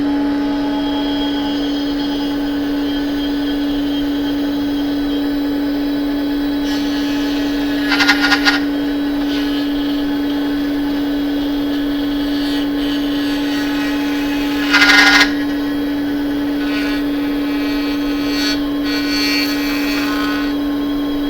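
A dovetail machine cuts a circular dovetail in wood, giving a steady, loud motorized whine with a strong constant hum throughout and two brief louder bursts partway through.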